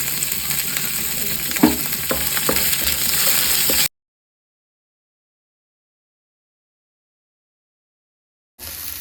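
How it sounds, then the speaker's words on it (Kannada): Onion, curry leaves, garlic, green chilli and coriander fry in a spoonful of oil in a pan, making a loud steady sizzle with a few stirring knocks. It cuts to silence, then the sizzle briefly returns. "ಈರುಳ್ಳಿ, ಕರಿಬೇವು ಸೊಪ್ಪು, ಬೆಳ್ಳುಳ್ಳಿ, ಕಾಯಿ ಮೆಣಸು ಮತ್ತು ಕೊತ್ತಂಬರಿ ಸೊಪ್ಪನ್ನು ಹಾಕಿ ಸ್ವಲ್ಪ ಫ್ರೈ ಮಾಡಿ."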